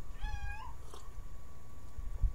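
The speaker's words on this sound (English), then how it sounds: "The cat over there had an opinion just now." A cat meows nearby, a single drawn-out rising call with clear harmonics, followed by a faint shorter chirp over low rumbling background noise.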